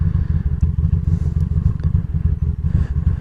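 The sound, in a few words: motorcycle engine bogging while releasing the clutch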